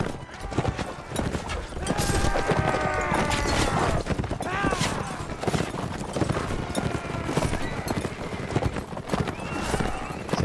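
Horses gallop in the Mount and Blade Warband video game, with dense hoofbeats, whinnies and neighs throughout a loud siege battle, mixed with clashing combat noise.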